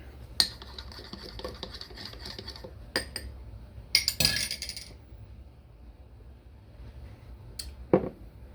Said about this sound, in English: I will stir it.